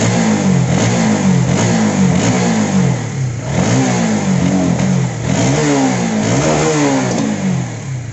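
A Honda CB150 motorcycle with low fuel pressure that loses power at high rpm, its engine revved repeatedly in loud, close rising and falling surges over a continuous throaty idle.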